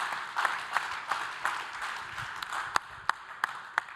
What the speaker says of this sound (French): Que l'on peut applaudir chaleureusement.